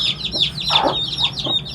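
Feather-footed chickens and their chicks cluck and chatter steadily at close range, with a brief louder squawk in the middle over continuous high chirping.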